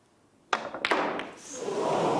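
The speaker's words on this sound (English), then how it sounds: "The blue jumped out of the pocket." A snooker ball, the blue, rattles in the pocket and jumps back out during a World Championship semi-final: a sharp thud, a second knock, then a rising murmur of crowd reaction.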